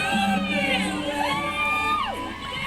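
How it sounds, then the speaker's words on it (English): Women cheering and whooping in the background at a gathering, loud overlapping shouts and rising, falling cries from a close, lively crowd, sustained throughout. "Look at them women in the background cheering this on, her friends."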